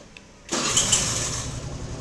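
An electric starter cranks a Suzuki Address scooter engine, which catches after a short whir and settles into a steady idle, recorded close up with no talking.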